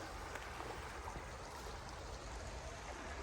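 A forest creek flows steadily ahead of a hiking crossing, a constant close hiss and burble of running water with no talking.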